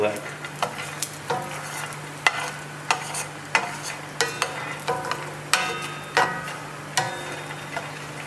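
Peanuts roasting in a dry pan for Indonesian gado gado peanut sauce, stirred repeatedly: a steady run of sharp scraping, rattling strokes about every half second over a low sizzle, close and fairly loud, with no talking.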